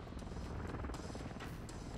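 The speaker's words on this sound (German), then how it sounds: "Verbündeter Überwachungsheli im Anflug" Helicopter approaching in Call of Duty: Modern Warfare 3, a steady broadband rotor rumble holding at even loudness for the whole span, with faint bursts above and no voices over it.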